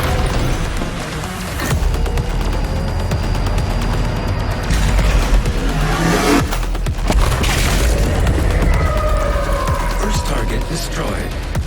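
Turret fire and blasts in Doom Eternal, a series of loud booming impacts and crashes over a dense mechanical background, with a voice speaking during the clip.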